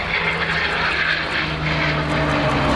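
A Eurofighter Typhoon and a Spitfire fly together at an airshow, a loud continuous engine roar with a droning propeller tone underneath, steady across the whole moment.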